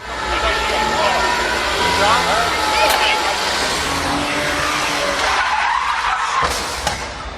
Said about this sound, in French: il a vraiment un beau tête à queue à faire, et ça a glissé beaucoup trop.